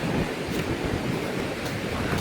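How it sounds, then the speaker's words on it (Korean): Steady rushing surf on a Phuket beach at Nai Thon, with broad noisy wash and a few rough breaking swells, some wind buffeting mixed in, no talk. "오늘 이렇게 파도가 오늘 또 장난 아닌데"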